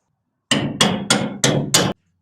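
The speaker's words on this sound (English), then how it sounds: "you just want to keep beating it with a hammer until you force it all the way in" Five loud, evenly spaced hammer blows drive a drop beam into place on a Ford F100, each sharp metallic strike ringing briefly before the next, with no talking.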